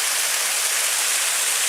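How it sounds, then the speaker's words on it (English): A small waterfall at Pictured Rocks in Michigan pours over a rock ledge in November, a constant bright hiss of rushing water heard close up and alone. "this is a view from the top of that small waterfall"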